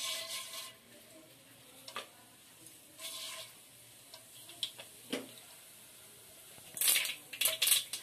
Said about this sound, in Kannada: ಈಗ ಸಾಸಿವೆ ಸಿಡಿತಾ ಇದೆ,